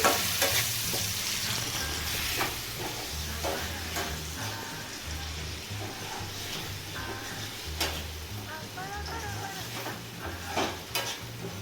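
A pan of tempering for raw tamarind chutney fries with a constant sizzle while being stirred, with scattered ticks and spits from the hot oil over nearly twelve seconds and no talking.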